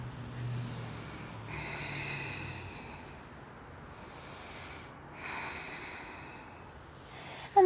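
Slow, soft breathing during a yoga stretch: gentle, drawn-out inhales and exhales at a calm pace. The breaths are quiet and close, with pauses between them and a sharp click at the very end.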